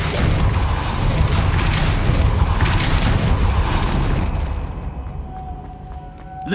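The Depulso spell cast in Hogwarts Legacy inside a witch's tomb, a heavy rumbling magical blast with grinding mechanisms that sustains loudly then fades into quieter rattles.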